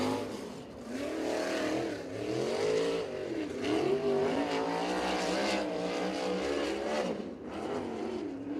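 A USAC sprint car's engine snarls loudly along the front straightaway at Circle City, its pitch wavering and rising as the throttle opens, with steady mechanical roar throughout.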